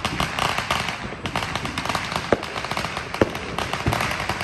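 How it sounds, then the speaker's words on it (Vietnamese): New Year fireworks and firecrackers pop across Houston at night, scattered sharp cracks near and far over a constant crackling rumble, with no one speaking. "các bạn nghe nó bắn vòng ở thành phố Houston này, tối nay nó bắn dữ lắm"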